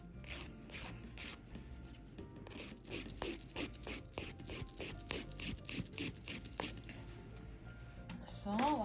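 Nail file rasping across a nail during a nude ombré acrylic nail application, a rapid series of short, close rubbing strokes in quick back-and-forth bursts, with a brief voice near the end.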